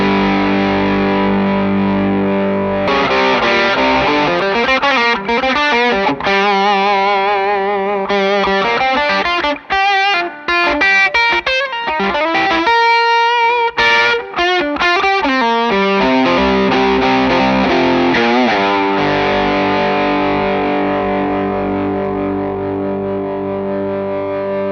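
A Chapman ML3 Classic electric guitar plays through a Tone City Big Rumble overdrive pedal in rock mode, tone and drive at halfway, into a DP40 amp, giving loud, thick distorted chords and riffs with brief pauses between phrases.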